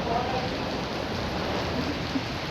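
Heavy rain pours down in Lahore as a dense, continuous hiss of falling water, steady and fairly close, with faint voices underneath.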